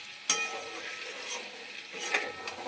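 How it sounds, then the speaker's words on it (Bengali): Mixed vegetables with spices, potato and bori sautéing in a pan: a low, steady sizzle with scraping stirs and a couple of sharp utensil knocks against the pan, close and fairly quiet. "আমি এখন মশলা দিয়ে, আলু দিয়ে, বড়ি দিয়ে কষে নিচ্ছি"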